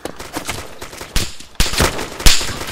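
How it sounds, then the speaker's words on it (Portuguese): Gunfire in a video game crackles in sharp bursts and single shots, some distant and some closer and louder, spread irregularly across a few seconds. "tem uns três focos de tiro aqui, hein?"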